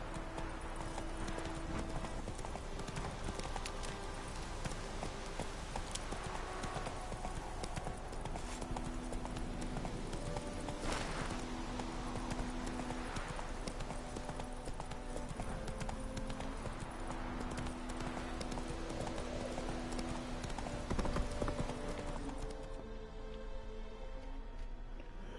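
Roach, a horse in The Witcher 3, trots along with steady, rhythmic hoof clip-clops that continue for the whole stretch, faint and evenly paced against soft game ambience, with occasional low voices.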